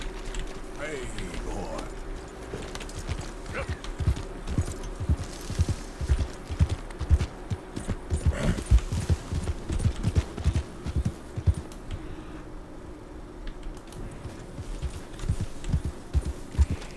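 Horse hooves clip-clopping in the Red Dead Redemption 2 video game, a steady rhythmic trot of close, distinct hoofbeats with some tack rattle, while someone talks over it.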